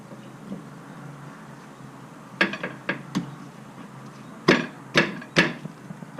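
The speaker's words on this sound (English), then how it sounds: "I am having to tap the axle in with my rubber mallet" A rubber mallet tapping a Harley Road Glide rear axle through the swing arm: two clusters of sharp knocks, a quick run of four and then three heavier blows, against a quiet garage hum.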